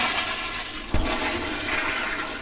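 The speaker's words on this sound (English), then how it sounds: "When the toilet flushes" A toilet flushes with a steady rushing wash of water, one sharp thump near the start, then continuous gurgling flow.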